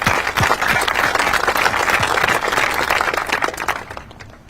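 Audience applause at a military ribbon-cutting ceremony for a digital test and training range at Nellis: a dense, steady burst of many hands clapping together that fades away at the end.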